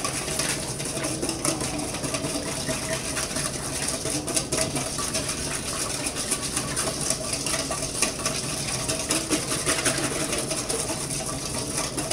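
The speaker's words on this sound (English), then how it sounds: "we're going to whisk it all together just like this. Usually whisk it for about a minute." Salad vinaigrette whisked in a bowl gives a continuous fast scraping and swishing texture, steady and even throughout, close by with no talking.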